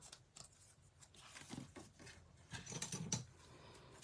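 Scissors snipping through a paper craft piece for a country birdhouse project, a few soft crisp cuts with light handling rustle, close and fairly quiet, no talking.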